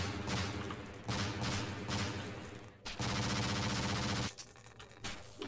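Rapid gunfire from a weapon in the Half-Life video game, dense repeated shots in sustained bursts with a short break, up close and loud.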